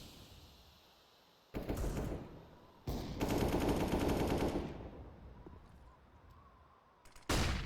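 Gunfire in Counter-Strike on the Nuke map during a professional ESL Pro League match, with loud sustained bursts of automatic fire in several blocks over a quieter game background.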